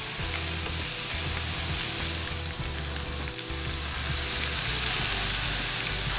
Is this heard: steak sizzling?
yes